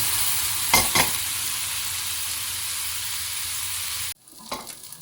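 Browned meatballs sizzle loudly in a frying pan as a splash of Verdicchio wine is added to deglaze, a steady broad hiss with a couple of stirring scrapes, cutting off abruptly to quieter, fainter sizzling.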